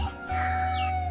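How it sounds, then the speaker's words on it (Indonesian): Free-range village chickens on a rural farm beside rice paddies in Banten, Indonesia, clucking and calling close by over a steady low background hum, no talk. "ini ayam kampungnya nih banyak banget"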